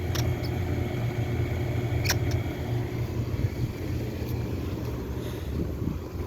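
A 1989 Guardian 4-ton air conditioner condenser unit runs outdoors, giving a steady low hum and fan drone with wind rush and a few faint clicks.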